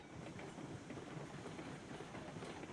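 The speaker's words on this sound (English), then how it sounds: "Now this train is going to start going down a grade" A train in the Railroads Online game rolls along its rails, about to head down a grade, with a steady, continuous rumble and faint rhythmic clatter throughout and no voices.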